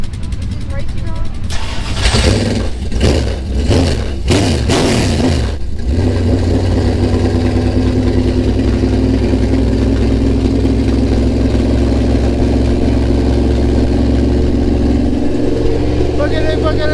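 A dirt track race car engine at a speedway starts up loudly, revs in a few sharp bursts, then settles into a steady rough idle close by, with some voices over it.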